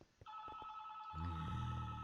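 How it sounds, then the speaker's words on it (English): A telephone rings with a steady, bright electronic tone that holds loudly for about two seconds, over a low hum, during a Minecraft game session. "I've got a phone ring"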